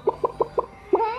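A rooster-like chicken call: four short, evenly spaced clucks followed by a longer, drawn-out crowing note, close and clear with no talk over it.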